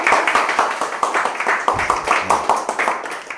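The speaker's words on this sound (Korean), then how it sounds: "박수 한번 부탁드리겠습니다" Audience applause fills the room, a dense run of close hand claps in an even, lively patter that holds steady throughout, with faint voices underneath.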